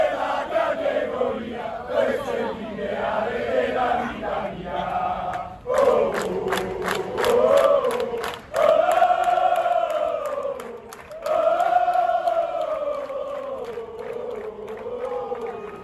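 Football fans gather and protest in a town square, a loud crowd chanting in rising and falling waves with rhythmic claps and shouts, dropping briefly between chants.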